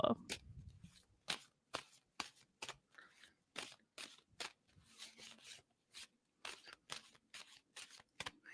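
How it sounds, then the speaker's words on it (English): Playing cards shuffled by hand in a quiet room, a rapid series of crisp riffling bursts and flicks repeating at an even rhythm, close and clear, with a voice speaking briefly at the start. "And tell me when I should stop shuffling on that."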